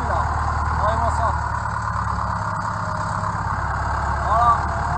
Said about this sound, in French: Bon, petite vidéo sur le tracteur, un des plus vieux de l'exploitation.